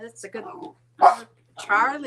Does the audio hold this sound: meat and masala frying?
no